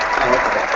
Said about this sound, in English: You actually got the applause this time